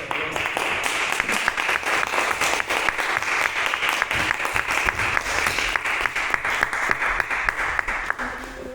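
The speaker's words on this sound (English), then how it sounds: "Big round of applause." Sustained audience applause for a speaker on stage, dense steady clapping from a crowd that holds throughout and eases slightly at the very end.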